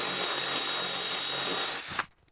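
A power drill spins a Forstner bit through Baltic birch plywood, a steady loud grinding whir that holds for about two seconds before the bit breaks through and the motor cuts off into quiet.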